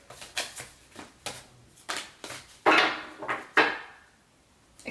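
Close, crisp tarot card shuffling: a series of quick riffles and taps, with two louder bursts near the middle, no talking.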